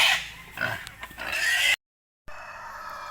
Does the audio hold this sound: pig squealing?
yes